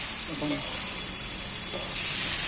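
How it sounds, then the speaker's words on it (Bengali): Raw jackfruit curry, already marinated in salt, spices and oil, sizzles steadily in a pan as it is sautéed, a continuous bright hiss with faint background voice-like sounds at moments. "একটু কষাতে হবে ভালো করে কষিয়ে নিতে হবে"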